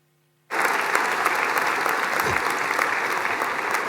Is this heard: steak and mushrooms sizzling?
no